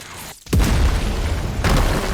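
A loud, booming explosion from a skill shot in the game Heroes Battlegrounds bursts in after a brief hush, followed by a sustained rumbling roar that swells again near the end.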